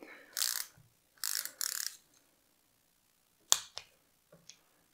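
A torque tool set to 6 Nm ratchets as small screws are driven into an electric scooter, giving a few short bursts of close mechanical clicking separated by pauses.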